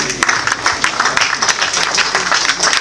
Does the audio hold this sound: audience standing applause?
yes